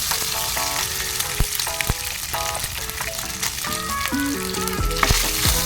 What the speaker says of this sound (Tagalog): gusto ko i-prito-prito muna natin itong ating luncheon